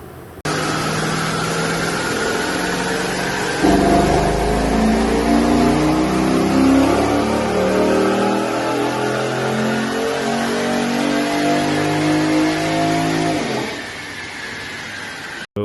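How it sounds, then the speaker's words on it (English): A Chevrolet Caprice police car engine with Kooks catalytic converters, stock mufflers and E85 fuel roars under load on a dyno, revving steadily higher in a long sustained pull before dropping off abruptly, loud and close. "We'll get one more dyno pull."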